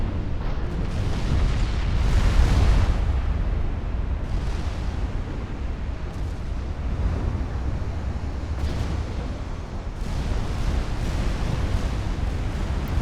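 Twenty-inch armor-piercing shells slam into a warship in Ultimate Admiral Dreadnoughts, a naval battle game, as a loud, continuous run of heavy booming impacts. The biggest burst comes early and further hits rumble at uneven intervals.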